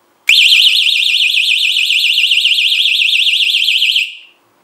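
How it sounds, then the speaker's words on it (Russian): Loud, sharp warbling siren alarm from a TW-09 telescopic stun baton, a piercing high tone wavering rapidly up and down for about four seconds, very close and alone. "Очень сильный звуковой сигнал, резкий."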